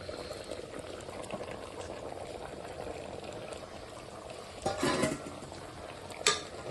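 Goat head mutton curry with masala bubbles in a pot, a soft, steady simmering burble, broken by a couple of brief louder stirring scrapes and splashes near the end.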